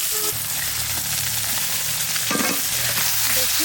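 Country chicken meat frying and being stirred in a pan as its released water cooks off, a loud, close, continuous sizzle with scraping stirs and occasional clinks of the utensil.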